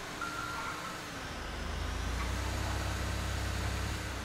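A tugboat engine in GTA 5 Online rumbles low and heavy continuously, deepening and growing steadier partway through, with a faint higher whine over it.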